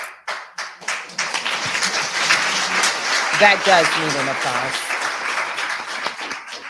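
An audience at a Black Women Lawyers Association event in Palm Beach County applauds steadily and fairly loudly. A speaker's voice briefly cuts through the clapping partway through.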